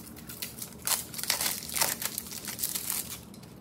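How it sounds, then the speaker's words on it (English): Crinkly plastic packaging being cut open with scissors and crumpled in a quiet room, a series of short close-up rustles and snips. "So I'm just gonna use my scissors and open them."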